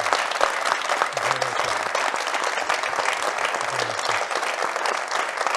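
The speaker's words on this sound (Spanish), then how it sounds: "Démosle un aplauso al profesor Velázquez por estar acá." An audience at a university conversation event applauds steadily, a thick wash of many hands clapping, with a couple of brief low voices rising faintly beneath it.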